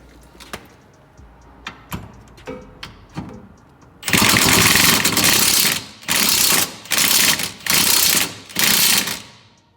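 Impact wrench rattling off 14mm sway bar bolts on a Genesis Coupe, first a few short mechanical clicks, then five loud hammering bursts, each about a second long, separated by brief pauses, close up.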